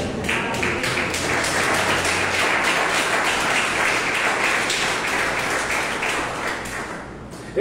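A church congregation at a theology school session claps loudly and steadily, the applause fading slightly toward the end with a sharp thump at the close.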